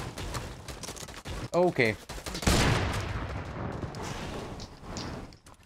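Gunfire in a Fortnite Battle Royale arena duos match near a volcano, with bursts of shots and a loud blast under brief talk from players.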